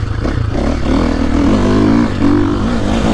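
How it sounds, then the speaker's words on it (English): A motocross bike engine, either a Stark Varg or a KTM 450SXF, revs and pulls hard on a GP track with a steady, loud drone that swells and holds, close up and with no talking. "And it'll rev out, keep making power."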